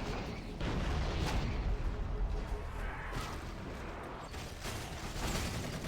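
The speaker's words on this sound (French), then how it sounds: "Ah, enfin une explosion." An explosion in the Halo single-player adventure mod, a loud deep booming burst with rumbling debris under game noise and a continuous wash of effects.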